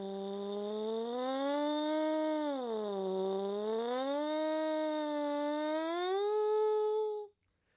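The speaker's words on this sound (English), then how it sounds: "We want to buzz them super smoothly so that we hit all the notes in between." A brass mouthpiece buzzed alone, sliding smoothly up and down between pitches in one continuous wavering tone for about seven seconds before stopping abruptly.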